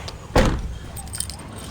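A short jangle of car keys while a multicab is being locked outdoors, one bright rattle near the start, then quiet ambient noise.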